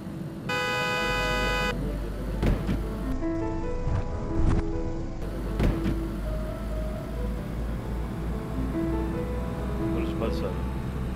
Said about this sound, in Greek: Κόρναρα, δεν έκανε άκρη, δεν τρέχει μέσα στη μέση του δρόμου.